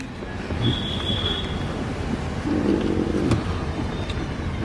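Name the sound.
moving train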